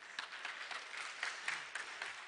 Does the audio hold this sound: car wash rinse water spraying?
no